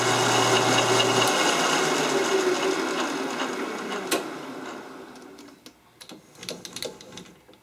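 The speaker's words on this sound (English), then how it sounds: "let's go ahead and move to the lathe now" A metal lathe turns an M70 rifle barrel, with a steady mechanical whir and a faint cutting sound that wind down, followed by scattered metallic clicks and clunks as the machine stops.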